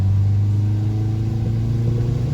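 A used Subaru car with a failing trailing arm drives along, its engine giving a steady loud low rumble with a faint rhythmic wobble throughout.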